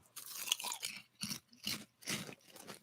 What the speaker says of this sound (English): There's a crunching.